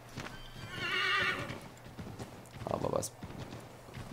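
A horse in Assassin's Creed 3 neighs in a clear, fairly close whinny, followed by a second snort or call, with hoof clip-clops sounding through deep snow and someone talking over it.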